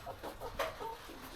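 A broody backyard hen clucks in a soft, repeated series of low murmuring notes with one sharper cluck, close by.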